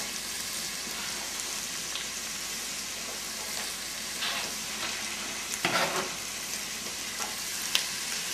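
Vegetables and potatoes sizzle in a pan for pea soup, a soft continuous frying hiss broken by scraping stirs and a few louder clatters near the end, close and quiet with no speech.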